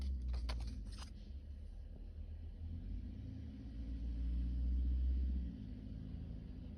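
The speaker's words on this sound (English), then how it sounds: "Apologies if you hear the cars." Low rumble of cars passing outside a window, a steady faint drone swelling once as a vehicle goes by, with a few brief clicks near the start.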